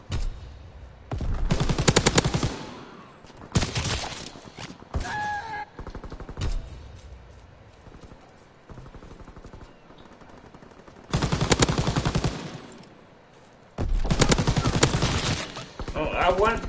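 Bursts of rapid automatic gunfire in a video game shooter, with loud sustained volleys around the start and again near the end, separated by scattered single shots and quieter stretches.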